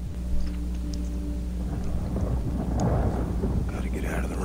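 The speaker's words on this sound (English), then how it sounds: "Gotta get out of the rain." Rain and rumbling thunder in the Wolfenstein Youngblood video game, a continuous low roar and wash of rain building toward the end, with speech-like voices mixed underneath.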